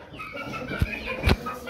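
Chicken clucking inside a coop among chicks, soft repeated clucks over a low background hum, with two brief louder knocks or thumps close by.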